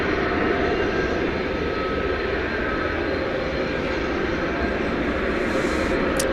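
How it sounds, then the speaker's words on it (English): Heavy jet aircraft engines roar at DFW Airport late at night, a loud, steady broadband rumble held without a break, with no voices over it. "So lots of heavy jet action for you here, deep into the night at DFW."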